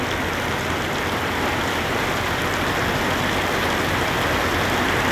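Heavy thunderstorm rain pours steadily and loudly without a break, a dense roar of water hitting the car and the ground nearby.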